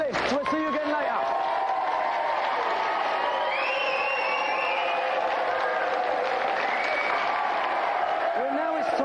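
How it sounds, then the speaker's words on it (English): Studio audience applause on a television game show, a dense, continuous wash of clapping and cheering that stays steady throughout, with a voice briefly heard at the start and end. "let's have a big round of applause for our two finalists"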